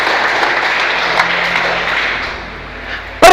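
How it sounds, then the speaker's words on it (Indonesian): Church congregation clapping together during a worship service, a dense wash of applause that holds steady and then fades out toward the end, ending with a sudden close knock. "Tepuk tangan untuk kemuliaan bagi nama Tuhan."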